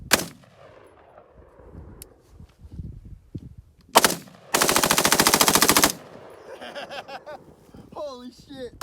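A Delta Team Tactical FRT-15L3 rifle lets off one loud, close burst of rapid-fire shots lasting about a second and a half, with single sharp reports before it and voices and laughter around it.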